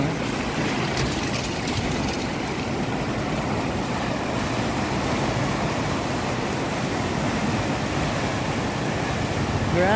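Water rushes steadily over a small dam near its overflow point, a loud, dense, continuous roar with no breaks.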